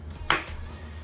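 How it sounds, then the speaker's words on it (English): A single quick knife chop through a potato being cut into wedges, close and crisp, with a short thud on the board. "what you do is you cut them in half and turn your half into fours"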